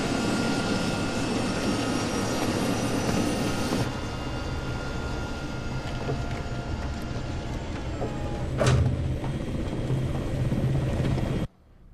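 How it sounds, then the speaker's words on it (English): V-22 Osprey aircraft engines in the Ghost Recon: Future Soldier video game give off a steady, heavy turbine roar with rotor thrum, dipping slightly midway, one brief whoosh, then cutting off abruptly. "Got some V-22 Ospreys."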